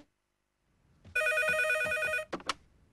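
A telephone in a family home rings once with a bright, steady electronic trill lasting about a second, followed by two short chirps, fairly clear and alone with no voices.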